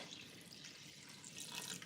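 Room temperature tap water pours into a big batch of sourdough in a mixing container, a steady close splashing stream that swells slightly toward the end.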